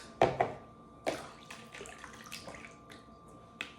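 Warm water is poured into a bucket for cleaning during a living room spring clean. It comes in as faint splashing bursts with quiet pauses between them, close by and without talk.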